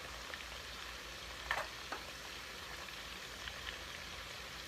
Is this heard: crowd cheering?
no